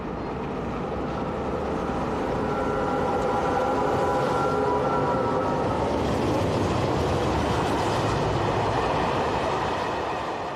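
A freight train rolling past on the Lyon–Marseille line, a loud, close, continuous rumble of wagons with steady rattling wheel noise and a faint squeal running through it, no voices.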